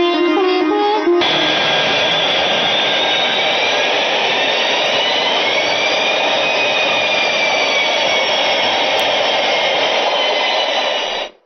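A film scene carries a loud, steady jet-engine roar of an airplane in flight, a continuous broad whooshing drone that holds from start to finish with no talking, after a brief musical lead-in.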